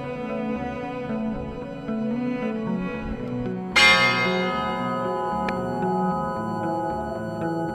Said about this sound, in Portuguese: O sino da igreja a tocar.